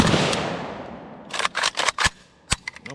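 A KUSA KR-103SF AK rifle fires a string of sharp, loud shots in uneven rapid succession after a decaying echo, running until the magazine is empty, then a final pair of cracks.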